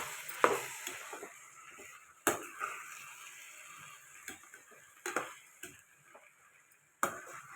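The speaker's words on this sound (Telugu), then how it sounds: "ఒకసారి తిప్పుదాం." Potato and egg curry being stirred in a pan gives a series of sharp spoon clicks and scrapes at uneven intervals, with soft sizzling between them, heard up close and with no talk.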